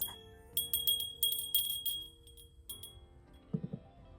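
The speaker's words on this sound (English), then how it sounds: "And then I'm adding this cute bell that was my mom's." A small decorative bell being set on a shelf gives a series of light, bright jingling rings in quick bursts, with a few soft knocks near the end.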